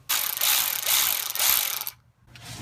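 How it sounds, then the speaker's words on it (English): Ratchet clicks rapidly as a wrench backs out crankcase bolts underneath a VW Super Beetle, three close, loud bursts of ratcheting separated by a short pause, with no talking. "We gotta pull all 6 of these bolts off the bottom of the crankcase to even drain the oil."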